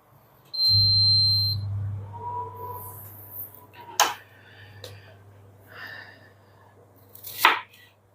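A knife cuts food into three pieces while tandoori chicken with roasted vegetables is prepared, making a few sharp, separate strikes on a board close by, over a low hum and a brief electronic beep.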